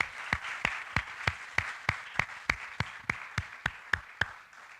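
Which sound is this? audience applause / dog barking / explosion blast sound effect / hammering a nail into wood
audience applause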